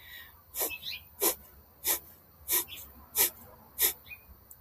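Breath forcefully expelled through the nose with the mouth closed: six sharp, evenly spaced hissing nasal exhalations about two-thirds of a second apart, close and alone.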